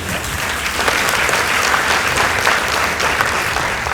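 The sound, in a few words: audience applause at a school debate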